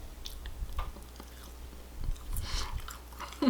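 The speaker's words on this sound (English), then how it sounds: "I like to eat one fry at a time." Fries eaten one at a time, close soft chewing and biting with irregular moist crunches and squishes, no talking.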